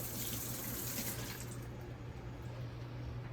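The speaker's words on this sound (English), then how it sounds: "Start by rinsing the meat off really good" Steady tap water runs over meat being rinsed in a kitchen sink before seasoning, a constant close gush and hiss that eases slightly toward the end, with no voices.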